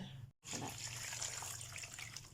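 Water pouring from a tap into a basin to wash fruit, a steady close splashing stream after a brief gap, no voices.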